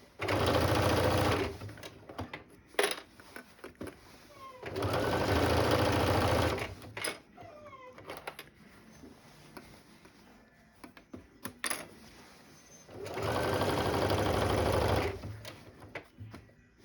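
A sewing machine top stitches fabric to close a turning opening, running loudly in three separate bursts of steady whirring with quieter handling clicks and rustles between them.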